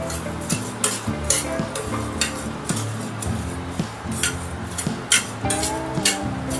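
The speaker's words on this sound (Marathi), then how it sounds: "याला जरा वेळ लागते फोड धने भाजायला" Coriander seeds roasting in oil in a pan, with repeated bright clinks and scrapes of a utensil stirring against the pan over a low sizzle, close up, while music plays underneath.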